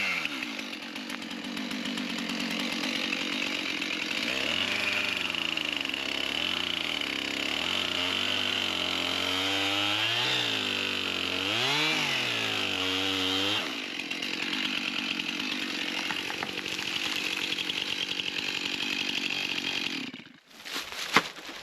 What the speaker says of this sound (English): Just turn the chainsaw on and make it tip over.